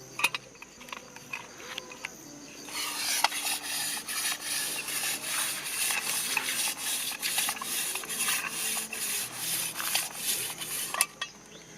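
Steady abrasive rubbing and scrubbing as rust is cleaned off an old charcoal box iron in a village, with a quiet start and then a continuous close scratchy rasp running throughout with occasional sharper scrapes.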